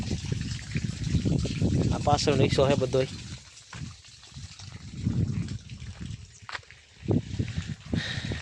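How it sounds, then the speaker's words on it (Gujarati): Rainwater running off a warehouse roof makes a steady rushing wash that continues beneath someone talking in the foreground for most of the stretch. "મિત્રો ગોડાઉના ધાબા ઉપર પણ જો પાણી ચાલુ થઈ ગયા"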